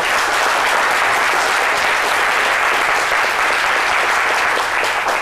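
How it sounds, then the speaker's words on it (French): Studio audience applause on a French midday TV talk show, a dense, loud wash of clapping sustained steadily throughout without pause. "je vous demande d'applaudir très fort"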